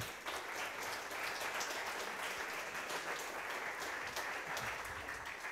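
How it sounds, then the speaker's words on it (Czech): An audience at a tech startup meetup talk applauds a speaker, a steady, moderately loud round of clapping from many hands throughout, with no talking over it. "Honzo, díky moc, zatleskáme."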